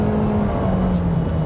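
Steady engine drone of a naturally aspirated Toyota Corolla Cross heard from inside the cabin, a constant loud hum with a slowly shifting low pitch and no talking.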